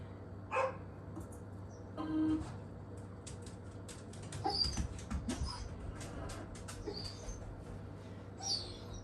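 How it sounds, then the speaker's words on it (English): A dog squeals and whimpers faintly in short, scattered yelps, mixed with distant bird chirps over a low background hum, no voices present. "especially by the dog squealing"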